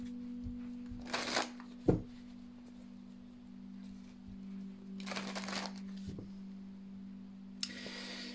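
Tarot cards handled and laid out on a table, heard as a few soft papery swishes and light taps spaced apart over a faint steady hum, close and quiet.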